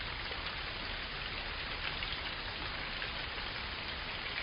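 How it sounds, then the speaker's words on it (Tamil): Steady rain falls across the ground, a dense continuous patter of drops at even loudness throughout, with no voices or other sounds. "அந்த மழை நீர் இந்த பகுதி முழுவதும் விழுந்து கொண்டிருக்கும் அந்த சப்தத்தை கேளுங்கள்."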